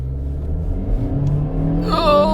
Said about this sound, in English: so I turn the engine on and now I try to take off fast